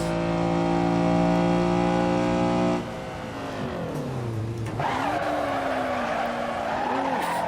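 A 1991 Honda Civic Si-R (EG6) racing at Zandvoort in Assetto Corsa: the engine drones at high revs, then drops off with a tyre squeal and skid, and the engine tone resumes, loud and close.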